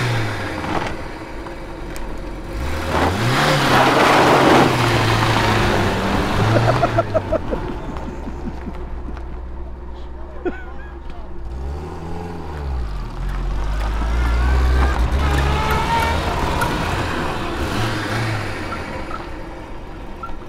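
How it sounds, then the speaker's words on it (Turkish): A Renault 12 Toros engine runs just after its first start in 14 years, with a belt squeal. It revs up and settles back down several times in loud, rising and falling swells over an idling rumble. "Kayış sesi geldi."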